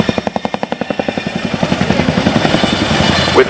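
A Chinook twin-rotor helicopter at the RAF Cosford air show, heavy blade slap thudding in a fast steady rhythm, loud and close, the beats smearing into a continuous roar as it moves off.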